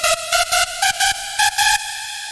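A rave lead synth patch built in Serum plays a bright, buzzy, staccato riff of short stabbed notes in a syncopated rhythm, loud and upfront, alone without any voices.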